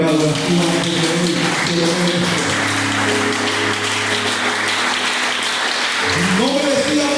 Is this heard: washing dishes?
no